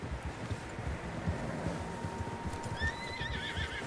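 Horses in Red Dead Redemption 2 trot with a steady clip-clop over wind noise, and near the end a single horse lets out a clear, high whinny.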